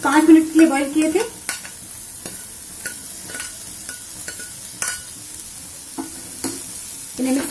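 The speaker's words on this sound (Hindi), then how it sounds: "इन्हें मिक्स कर लेंगे हम" Boiled corn kernels are stirred and sautéed in ghee with masala for palak corn, loud spoon scrapes and clatters over a soft sizzle, in close rhythmic bursts without talk.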